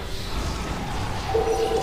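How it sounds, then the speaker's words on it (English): A telephone rings with short, evenly pulsed electronic tones that begin near the end, heard against loud, steady background noise. "it's the fucking phone"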